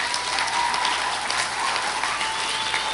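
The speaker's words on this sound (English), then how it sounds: "you can definitely clap for them" Audience applause at an evening gathering, a steady, dense wash of many hands clapping for about three seconds at moderate level, with no talking over it.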